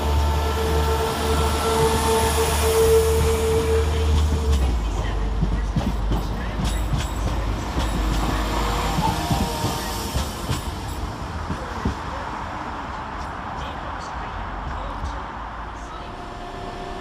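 A West Midlands Railway passenger train rumbles and clatters out of Birmingham Snow Hill station, wheels squealing faintly as the heavy engine noise slowly fades into the distance.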